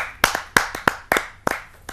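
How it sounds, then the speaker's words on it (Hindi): A few people clap for a poet being welcomed onstage at a kavi sammelan: sparse, uneven claps spaced about a third of a second apart, sharp and close, rather than a full room's applause. "आप सबकी जोरदार तालियों से उन्हें आमंत्रित करते हैं।"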